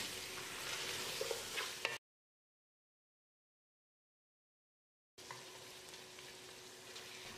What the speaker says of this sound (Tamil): சிக்கனை போட்ட பிறகு ஒரு ரெண்டு நிமிஷம் பிரட்டி விடணும்